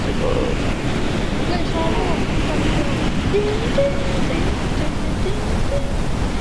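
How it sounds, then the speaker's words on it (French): Steady roaring wind gusts buffeting the microphone outdoors during a tornado chase, continuous and loud, with faint voices underneath. "je reçois des rafales ici"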